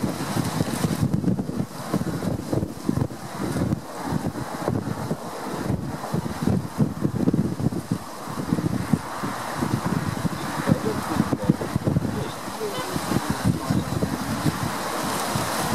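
Strong, gusty wind roars and buffets the microphone continuously at Madeira Airport, with a low rumble underneath and no voices.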